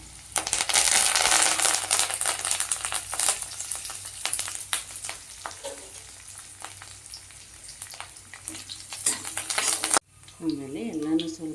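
Onions, garlic, green chillies and curry leaves fry and get stirred in a pan, a steady loud sizzle with scraping strokes that eases midway; a voice speaks briefly near the end.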